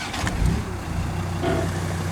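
A Land Rover Discovery with a modified exhaust and turbo runs close by, a steady low engine rumble with a slight rise in the middle of a short stretch.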